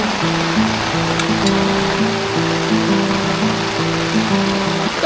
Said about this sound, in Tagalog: Sobrang lakas pa rin ng ulan